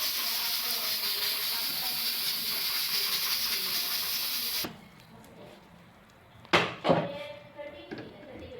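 A pressure cooker releases a loud, steady rush of hissing steam for several seconds, then cuts off abruptly, followed by a few clattering knocks and scrapes.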